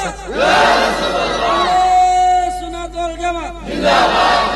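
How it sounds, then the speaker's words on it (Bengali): A crowd at a religious gathering shouts takbir, calling Allahu Akbar in a loud, close group chant, with one sustained collective cry in the middle and shorter shouts at the start and end. "আর জবান খুলে ইমাম সাহেব একটা জোরে তাকবীর দেন"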